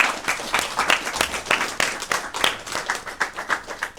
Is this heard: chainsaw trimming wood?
no